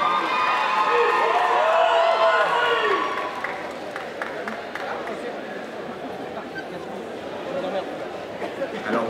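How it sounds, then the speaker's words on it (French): Audience cheering and clapping for a cosplay contest winner at a Gamefest prize-giving, loud crowd noise with shouts for the first few seconds, then settling into quieter chatter with scattered claps. "On l'applaudit bien fort s'il vous plaît, au Gamefest."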